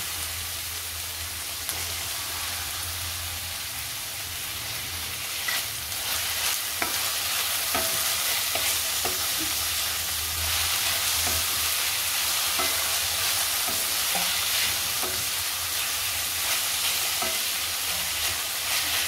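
Onion and tomato sizzle steadily in a frying pan for a dried-fish dish, with a continuous close hiss broken by the scrape and clack of a spoon stirring through the mixture, no voices.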